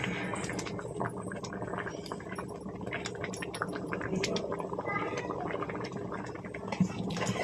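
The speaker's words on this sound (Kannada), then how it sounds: "ಈಗ ಕುದಿ ಬರ್ತಾ ಇದೆ" Bisi bele bath, a South Indian rice and lentil dish with jaggery added, bubbling in a pot on the stove, a steady dense burble of popping bubbles close by with faint clinks, no talking.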